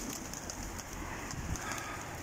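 Pigeons coo faintly in a breeder's loft, soft low calls set against a steady background hiss, with no one speaking.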